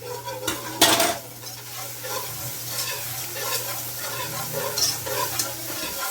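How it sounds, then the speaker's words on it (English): A spoon stirs bouillon in a pan with garlic, scraping and clinking against the metal amid a soft continuous sizzle, close and moderately quiet, with a few sharper utensil knocks near the start. "Give my bouillon a little stir because of course it settles because it's bouillon."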